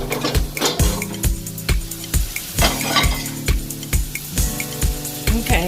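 Spoon scraping and stirring mushrooms, garlic and onions sautéing in a pan, steady rhythmic strokes roughly twice a second with clanks of utensil on metal over a low sizzle, close and clear with no talking.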